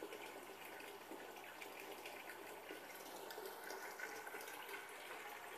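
Water gushes steadily from a pump with its tap fully open and a new impeller fitted, a faint continuous rushing flow with an even, unbroken texture and no voices.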